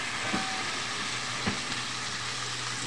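Fresh fish frying in a pan over a clay stove, an even hiss of oil with a couple of soft pops, close and steady.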